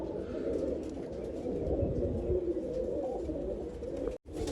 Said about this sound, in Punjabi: ਤੁਸੀਂ ਆਪਣੇ ਪੰਨੂ ਵਾਲੇ ਕਬੂਤਰ ਦੀ ਮੇਰਾ ਭਰਾ ਸਟੈਂਡਿੰਗ ਪੋਜੀਸ਼ਨ ਚੈੱਕ ਕਰੋ